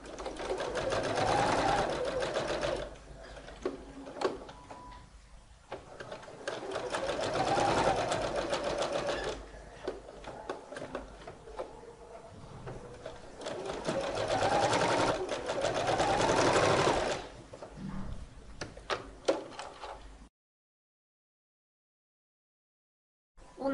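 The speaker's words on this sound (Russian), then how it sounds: "Соединили карман с подкладкой и теперь будем прокладывать соединительную строчку." A sewing machine runs in several bursts while stitching a pocket to its lining, its close, steady whirring rising and pausing between runs before falling silent at the end.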